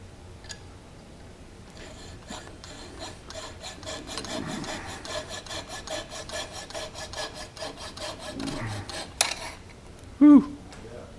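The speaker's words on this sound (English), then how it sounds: "you're going to be sanding this, grinding this off and sanding it." Rhythmic rasping strokes scraping a wooden bowl on a lathe or bench, a fast steady series of close rubbing passes, with a brief louder knock near the end and no speech.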